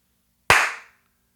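A single sharp hand clap in a bathroom, loud and close, followed by a short reverberant echo that rings out and fades within about half a second, with silence on either side.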